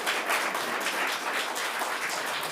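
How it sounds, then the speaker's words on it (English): An audience at an evening public hearing about a park master plan claps for two students, a dense, moderately loud patter of many hands that holds steady throughout. "I just want everyone to give our two students a round of applause for coming and participating tonight."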